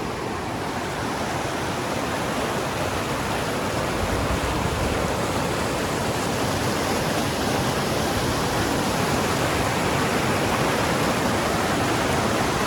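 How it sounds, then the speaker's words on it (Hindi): A river in Ladakh rushes in a steady, loud, unbroken roar of churning water, close by and constant throughout with no voices. "ये हमारी नदी है।"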